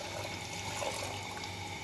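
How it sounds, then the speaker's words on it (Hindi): Water poured from a jug into a pot of meat for yakhni splashes and gurgles steadily, a close, continuous liquid rush with no talking. "तकरीबन 2 जग मैंने पानी डाल दिया है"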